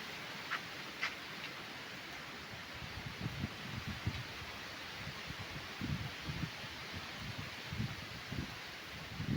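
Strong gusting wind through trees, a continuous rushing with rustling leaves and low buffeting rumbles, no voices.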